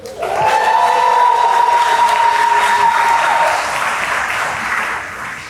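A large commencement ceremony audience applauding steadily for several seconds, dense and loud, with a faint whistle-like tone early on, slowly fading near the end.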